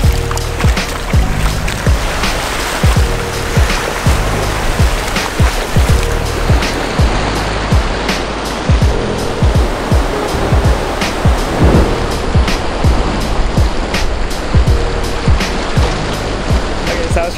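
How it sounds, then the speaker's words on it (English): Ocean surf at Cox's Bazar beach in Bangladesh, loud waves crashing and rushing ashore in a continuous roar with repeated surges, close by and filling the whole scene. "a big wave came and just got my pajamas drenched"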